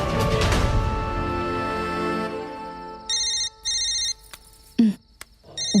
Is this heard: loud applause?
no